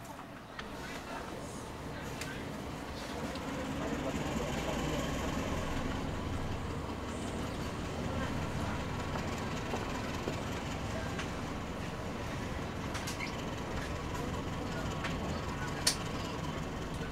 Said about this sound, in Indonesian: Ini sekarang kereta api Erlangga berhenti di stasiun Kedung Gede dan masuk di jalur 1 di rel sebelah kiri nih.